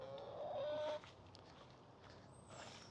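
Backyard chickens clucking while scratching around a coop, a soft warbling call near the start, then fainter scattered clucks over quiet outdoor background.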